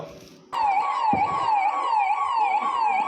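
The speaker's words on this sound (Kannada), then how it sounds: "ಈಗ ಆಂಬುಲೆನ್ಸ್ ಘಟನಾ ಸ್ಥಳಕ್ಕೆ ಆಗಮನವಾಗ್ತಾ ಇದೆ." An ambulance arrives at an emergency mock drill held in a city stadium, its siren starting abruptly and then wailing loudly in steady up-and-down sweeps, close by, with a brief low thump just after it begins.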